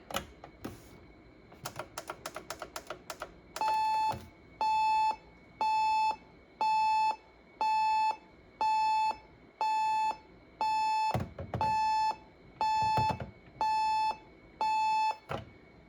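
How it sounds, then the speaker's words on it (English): A Panasonic RC-6180 clock radio's alarm buzzer sounds in a steady series of loud, evenly spaced electronic bursts, preceded by a few quick clicks and a brief bell-like ring. "And we'll set it to buzzer."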